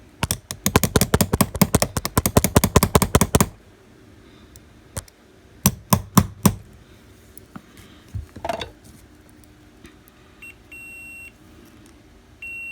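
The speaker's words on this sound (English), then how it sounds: "Trusty, dusty 4-ounce hammer." Sharp metallic taps of a small 4-ounce hammer striking a window switch on a 1993 Jeep Cherokee XJ, a rapid burst of close blows followed by a few separate knocks and quieter shuffling.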